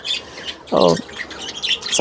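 A sun conure parrot indoors lets out two loud, harsh squawks close by, with softer chirps and twitters in between.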